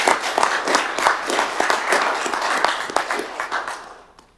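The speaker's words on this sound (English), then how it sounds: "we could invite our audience to join us and give them a round of applause for that" Meeting audience gives a round of applause at a county commission session, many hands clapping in a busy, uneven patter that stays steady and then fades away toward the end.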